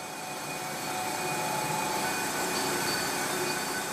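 A machine carves the outside of a stone pot in a traditional Korean stone-pot factory, giving a steady, loud grinding whine with high scraping tones that continues unbroken and close.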